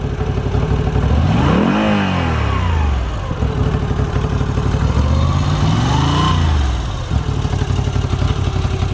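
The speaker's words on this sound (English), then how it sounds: "powered by the traditional transversely mounted V-twin engine" Moto Guzzi V85 TT with its transversely mounted two-valve pushrod V-twin revving hard, loud and close, with rising and falling engine sweeps and mechanical clatter throughout.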